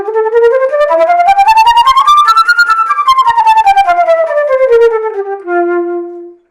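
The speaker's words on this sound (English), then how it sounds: "Now we can also do double tonguing, which is quite easy enough to do on the flute." A flute plays a quick run of rapidly repeated, crisply articulated notes that climb then fall, ending on a held low tone.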